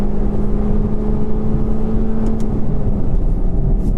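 A modified 2020 Toyota Corolla drives on a race track, its engine droning loud and steady from inside the cabin with a held tone and no clear shift breaks.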